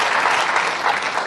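A studio audience at a 1972 television talk show applauds the band, a steady, full wash of clapping that stays loud and even throughout.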